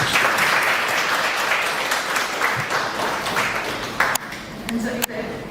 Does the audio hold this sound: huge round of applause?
yes